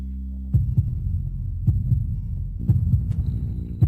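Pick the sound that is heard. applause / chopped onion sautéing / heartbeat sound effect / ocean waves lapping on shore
heartbeat sound effect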